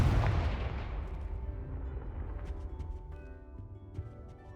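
The Confringo fire spell goes off in Hogwarts Legacy as a single heavy, booming blast that rolls into a long, fading rumble. Scattered faint crackles and pops sound through the decay.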